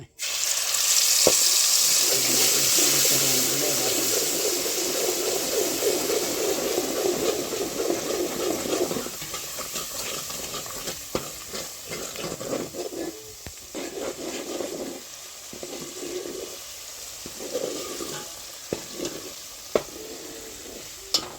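Soaked chili and coriander-cumin paste hits hot oil with a loud, sustained sizzle and crackle, strongest at first and then settling into a steady, slightly quieter frying hiss with scattered pops and stirring scrapes.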